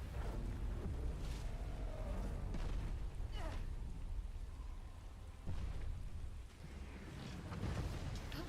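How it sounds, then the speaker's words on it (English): Steady rain falls close by as a continuous broadband hiss throughout, with occasional louder gusts or splashes and a few faint voices in the background. "Oh, and it's raining."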